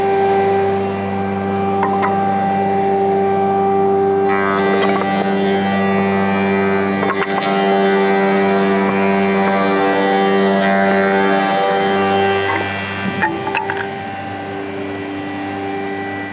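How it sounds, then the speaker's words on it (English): A refurbished timber moulder planes boards on all four sides, giving a loud, steady machine drone with a strong constant hum and brief bursts as pieces feed through, with no talking. "we're going to run the timber through the machine and we're going to run a couple pieces"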